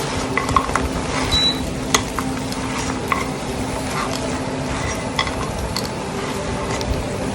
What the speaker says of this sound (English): now I'm adding fried baby corns in this. And we'll give this a nice toss